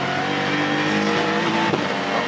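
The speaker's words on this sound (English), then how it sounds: "Hitting the brakes there, Yannick Mettler." GT race cars, including a Bentley, braking hard into turn 7 at the Barcelona circuit in a GT Cup Open Europe race, a loud sustained engine roar with shifting pitch and a brief squeal-like burst near the end.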